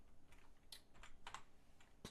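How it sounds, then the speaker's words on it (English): Quick bursts of typing on a computer keyboard while writing code in Roblox Studio, light clustered key clicks with short pauses between them, close and alone. "we're just going to type in"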